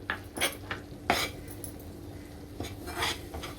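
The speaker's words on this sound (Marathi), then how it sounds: "आता मैदा भाजायचा आहे आपल्याला बटरवरती चांगला." Flour roasting in butter in a pan over low gas for a pink sauce pasta, with a few light scraping and clinking stirs of a spoon against the pan, separated by quiet gaps.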